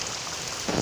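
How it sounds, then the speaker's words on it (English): Heavy rain pouring down steadily as a dense, loud hiss, close and continuous, with a slightly heavier splash of drops near the end. "It's raining hard, ain't it?"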